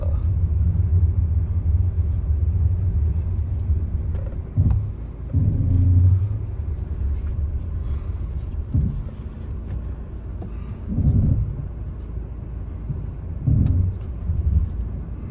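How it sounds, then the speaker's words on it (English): A car spins its wheels while climbing a very steep slope, a loud continuous low engine rumble with surging revs and brief bursts of strain, close and steady throughout. "It's good we've got a bit of wheel spin going off."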